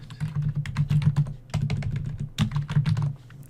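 Rapid typing on a computer keyboard, a close, steady patter of many quick key clicks in short runs with brief pauses, heard alone without talk.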